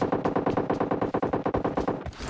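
Automatic gunfire in PUBG Mobile during a tournament match: a fast, steady burst of loud close shots fires in even rhythm for about two seconds, then cuts off.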